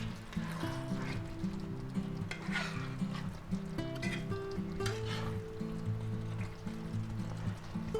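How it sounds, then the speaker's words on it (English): Spoon stirring chicken and broccoli stir fry sauce thickened with cornstarch in a pan, a steady close scraping and liquid swirl over a continuous musical hum. "And we'll give that a little mix."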